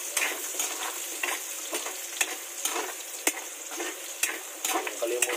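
Plenty of garlic sizzles in a pan for adobong kangkong, a bright continuous crackle punctuated by sharp utensil taps and scrapes at irregular intervals.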